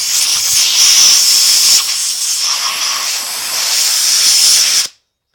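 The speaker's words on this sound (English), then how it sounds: "So you got to blow it out with the air compressor." An air compressor nozzle blowing out the carburetor of a 50cc engine, a loud, steady high-pitched hiss of compressed air lasting about five seconds, then cutting off abruptly.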